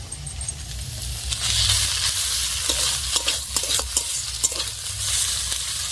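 Prawns and pumpkin leaves frying with spices in a pan, a steady close sizzle broken by repeated scraping stirs of a spoon, with no talk.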